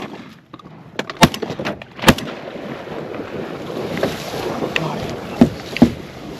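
Two sharp shotgun blasts ring out while duck hunting, the first near the start and the second about a second later, over a windy outdoor marsh background with a few fainter cracks later.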